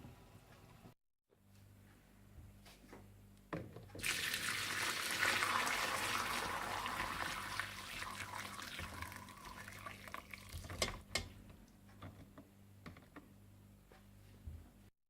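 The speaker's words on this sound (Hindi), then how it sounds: "अब मैं इसकी यखनी को छान लूंगी और चिकन निकाल लूंगी" Homemade chicken stock for chicken corn soup is strained to remove the chicken and spices. A steady pour of liquid runs for several seconds, then gives way to clinks and small knocks of kitchen utensils. No one speaks.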